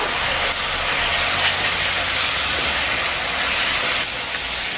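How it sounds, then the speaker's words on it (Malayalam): Crushed shallots go into hot oil with chili powder and are stirred, producing a loud, steady hiss of frying that holds throughout. No one speaks. "ഇനി ഇതിലേക്ക് ഉടച്ച് വെച്ച ഉള്ളി ചേർത്ത് കൊടുക്കാം. ഒന്ന് ഇളക്കി കൊടുക്കുക."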